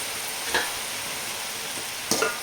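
Mushroom fried rice sizzling in a pan, with a continuous frying hiss broken by two quick scraping stirs of a spatula.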